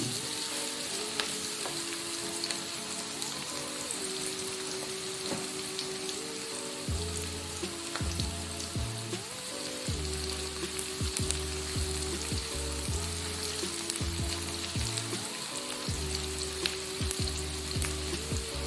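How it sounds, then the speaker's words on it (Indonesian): Steady crackling sizzle of onions frying in hot oil, continuous and close, with a low rhythmic hum underneath and no talking. "kita goreng bawang dulu"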